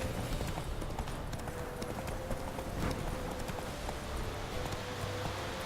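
Horse hooves clip-clopping in a steady galloping rhythm in The Witcher 3 video game, loud and continuous over a dense bed of outdoor game ambience.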